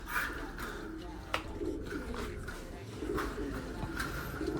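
Racing pigeons coo softly and repeatedly inside a loft, a low rolling burble near at hand beside light rustling and background noise, with no talk over them.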